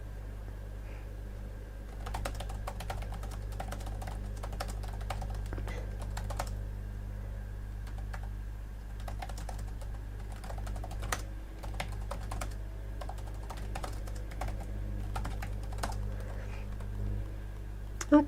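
Soft typing on a computer keyboard in a quiet indoor room, with scattered light clicks in uneven bursts over a low steady hum.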